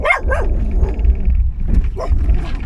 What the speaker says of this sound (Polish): I biegnie za nami jakiś pies.